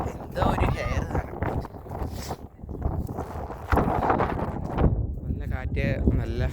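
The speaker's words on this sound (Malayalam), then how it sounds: "നല്ല കാറ്റ്, നല്ല കാറ്റ്." Strong wind buffeting an outdoor microphone in gusty, roaring bursts, heavy and close, with people talking over it throughout.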